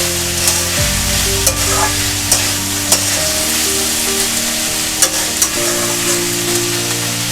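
Bottle gourd peel frying and being stirred in a pan, a steady close sizzle with a spatula scraping and knocking against the metal at irregular intervals, with no talking.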